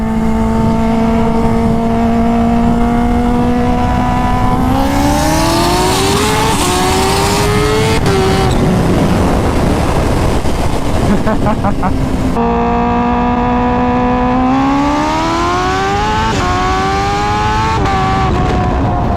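A supercar with rolling anti-lag races a Kawasaki Ninja H2R, engines loud and close, revving through rising gear pulls with popping and crackling between shifts, while people talk over the roar.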